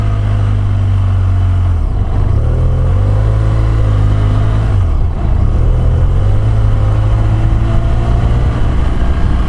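A 2007–2012 BMW F800ST motorcycle revs up and accelerates, its steady loud engine drone rising through the gears with two brief dips at the shifts, heard close from onboard with no voices.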